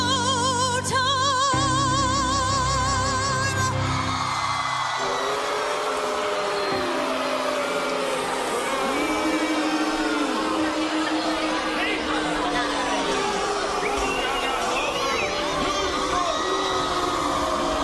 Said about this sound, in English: being booed on stage as a sound effect